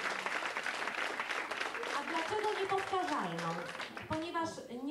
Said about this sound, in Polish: Dużo brawa.